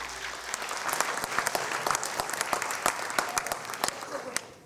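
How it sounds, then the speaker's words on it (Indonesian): An audience at a business association's chairman candidates' debate applauds, a dense, lively burst of many clapping hands, with sharp individual claps standing out throughout. "Sekali lagi kita berikan tepuk tangan yang paling meriah"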